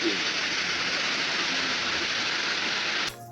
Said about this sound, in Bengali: মুষলধারে শুরু হয়ে গেল বৃষ্টি